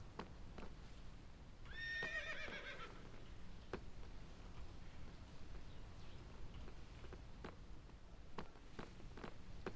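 A horse in the video game Minecraft lets out a single whinny of a second or so early on, followed by scattered soft hoof clicks over a quiet background.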